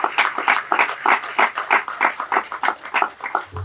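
Audience clapping in a steady, fairly close burst of applause, hands striking in quick uneven rhythm for several seconds at a grant award gathering, with no talking over it.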